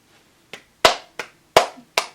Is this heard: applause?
yes